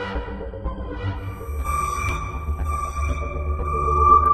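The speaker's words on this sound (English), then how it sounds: "So I like certain qualities of this Mad Hatter sound." A Mad Hatter synth patch on the Thor 2 synthesizer plays soloed, sustaining a dense, buzzy tone with layered harmonics that swells slightly louder toward the end.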